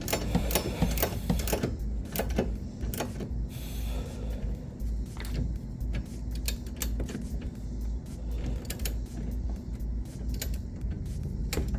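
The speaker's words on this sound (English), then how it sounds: "the easiest way to torque this is with the ratchet on one side and the torque wrench on the other" A ratchet and torque wrench tightening trailer hitch bolts on a Kia EV6: rapid, fairly loud ratcheting clicks in quick bursts, repeated with short pauses across the whole stretch.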